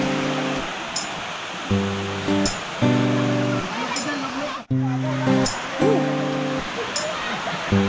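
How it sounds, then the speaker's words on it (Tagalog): Rushing water from Karugo Falls roars steadily throughout, a dense, close, continuous wash, with voices talking over it in intermittent stretches. "So ayan, ito na yung falls."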